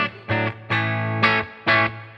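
An electric guitar through a Rev G20 amp on a clean tone with reverb rings out several sustained chords in a row, each strummed and held briefly, with a full, slightly gritty tone.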